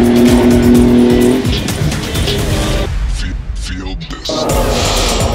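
BMW race cars roaring around a racing circuit, loud and close, with tires squealing and skidding as engines rise and fall in pitch, and a voice talking over the noise.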